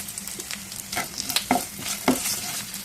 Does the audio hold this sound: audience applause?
no